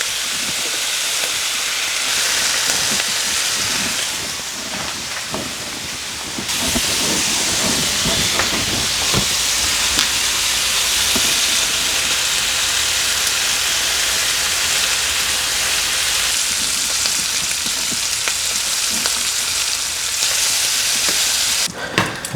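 Bacon cooking at high heat in a frying pan, a dense, steady sizzle and crackle with hissing spatter that carries loudly and continuously throughout, with no talking over it.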